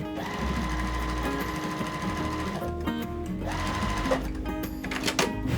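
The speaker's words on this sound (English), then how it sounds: "I'm going to sew a 1/4 inch seam down the side" A sewing machine runs a quarter-inch seam down the side of a half-square triangle quilt block, a steady close whirring drone with rapid needle chatter that shifts pitch and briefly slows near the middle and end.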